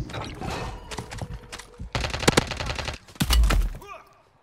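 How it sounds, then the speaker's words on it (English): Gunfire in the Call of Duty: Warzone video game, including sniper rifle shots fired from a cave, comes as loud sharp bursts and separate cracks over about four seconds, with a heavy thump near the end. "There's a guy sniping in the cave"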